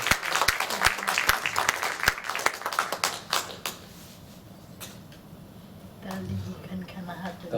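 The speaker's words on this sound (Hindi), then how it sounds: "सबके लिए जोरदार तालियां" Audience clapping at a Hindi poetry evening, a dense burst of applause in the first few seconds that thins to scattered claps and fades, with low murmuring voices underneath.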